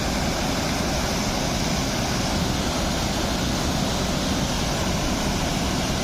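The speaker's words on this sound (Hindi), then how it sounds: "देखो झरनाटा केते सुंदर देखा" The Deojharan waterfall, a picnic spot in Deogarh, Odisha, pours as a steady, dense roar of falling water that stays constant and fills the whole scene, with no voices.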